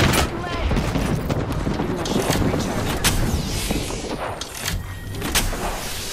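Rapid gunfire bursts in the battle royale game Apex Legends, dense crackling shots and booms repeating through the whole stretch under game noise and a talking voice.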